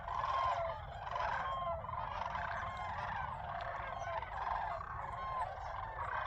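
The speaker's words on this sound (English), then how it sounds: "Listen to that. Those Sandhill cranes." Sandhill cranes chatter and call at a waterfowl complex, a steady flock of overlapping rolling, trilling calls heard from some distance, continuous and moderately loud throughout with no talk.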